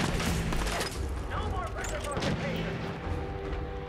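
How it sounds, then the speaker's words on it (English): Enemy gunfire in Fallout 4 on PC, dense rattling shots and booms running steadily through the whole stretch, with someone talking over the shooting. "Hey, who is shooting me?"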